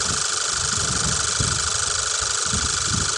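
Car engine idling steadily during a cranking test with a Micro 200 digital battery load tester, a close, even mid-pitched rumble with slight rhythmic pulsing, no talking.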